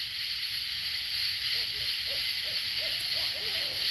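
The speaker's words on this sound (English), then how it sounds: "Oh, there's the owl." An owl hoots in the woods at a night stealth camp, a string of soft, short calls heard at some distance beneath a loud, steady hiss of insects or background noise.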